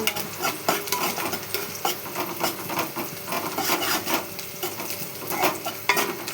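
Onions fry until golden while a spoon stirs and scrapes them in a steady rhythm over a constant sizzle, heard close with no talking.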